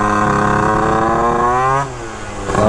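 A tuned Phantom F12 motorcycle engine screams at high rpm with strong rising harmonics, then drops off briefly near the end before revving back up, loud and close with no talk.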